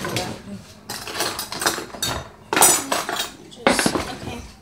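A spoon clinks and clatters against dishes and cutlery while butter is scooped, close and fairly loud, in several bursts of bright metallic knocks with short pauses between.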